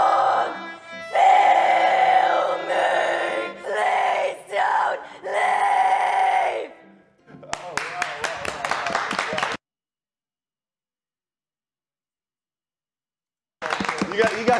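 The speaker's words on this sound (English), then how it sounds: "She's going to start screaming." A woman screams screamo-style vocals, long harsh strained yells in several bursts, loud and close, followed by a sharper choppy passage, a stretch of silence, then sound resumes.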